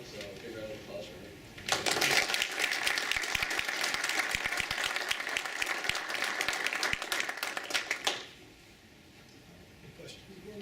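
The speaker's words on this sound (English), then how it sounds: "so big round of applause for him" A round of applause at a school district board meeting breaks out after quieter speech, a dense burst of clapping lasting several seconds before cutting off abruptly.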